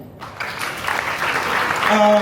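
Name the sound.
audience clapping for a speaker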